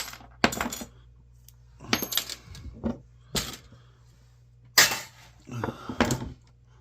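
Small scrap metal pieces, copper and brass bits among them, tossed into a 5-gallon bucket, landing as a series of sharp metallic clanks and jingles at irregular intervals with quiet gaps between, close and crisp.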